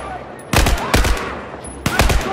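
Three loud, close bursts of automatic gunfire from the video game Battlefield 4, each a rapid cluster of sharp shots, separated by short lulls over a steady background rumble.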